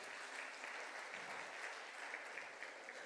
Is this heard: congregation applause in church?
yes